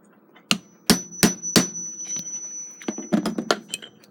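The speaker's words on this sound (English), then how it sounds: "is to turn the chisel to the side like this and do it that way" A chisel is struck into wood while rebuilding the case of a Takeda short-drop octagon clock, giving about ten sharp, close taps in irregular bursts with quiet gaps between them.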